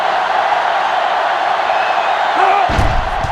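A stadium crowd in the NCAA 06 college football video game, Colorado at Kansas State, roars as a loud, steady wash of cheering, with a brief thud near the end.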